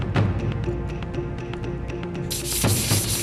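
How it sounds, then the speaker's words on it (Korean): Grinder smoothing rough spots on a huge cast temple bell, about 3.3 m tall and 13 tons, makes a continuous close rasping, scraping noise with a rhythmic rubbing pattern that turns brighter and harsher near the end. "외형의 곡선을 부드럽게 나타내기 위해 거친 부분은 곱게 갈아준다."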